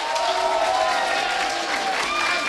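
A StarCraft 2 grand final audience in a live event hall breaks into sustained applause and cheering for a player, a dense, bright wash of clapping that holds steady at full volume.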